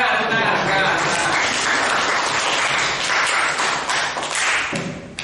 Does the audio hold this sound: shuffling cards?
no